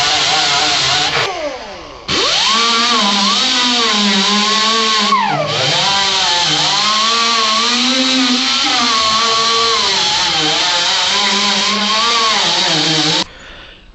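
A loud, steady power tool grinds or sands the metal of a 1979 El Camino quarter panel to clean it before welding, whining continuously with pitch sweeps as load changes and short breaks near the start and end.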